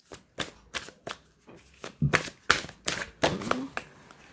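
Tarot cards being shuffled in steady repeated riffles, a dozen crisp papery bursts, close and fairly quiet.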